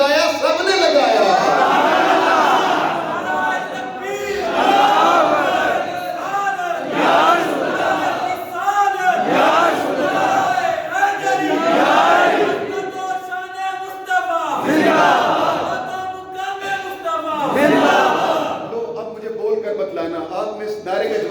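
A large crowd at a religious gathering chants back a slogan in loud repeated bursts, many voices shouting together in rhythmic waves that fill the space.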